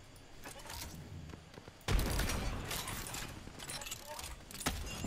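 Gunfire in the shooter game Apex Legends, with scattered shots early and then a dense burst of rapid fire midway, under and between a player's voice.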